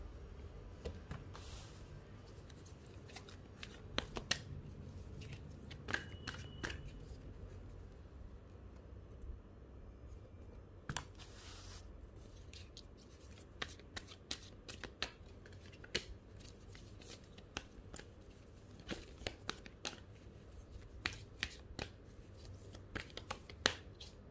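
Tarot cards shuffled and drawn by hand, continuous soft papery riffling and sliding with frequent crisp snaps of cards, close and quiet, no talk.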